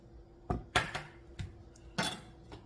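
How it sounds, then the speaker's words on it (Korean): A knife slicing scallions, an onion and half a carrot on a cutting board, with a handful of sharp separate chops at an uneven pace, close and clear with no talking. "쪽파 한 줌, 양파 한 개, 당근은 반 개 사용합니다. 썰어줍니다."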